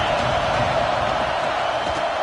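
Stadium crowd at an Alabama vs Penn State college football game on a big third down, a dense sustained roar of cheering throughout, with faint commentary underneath.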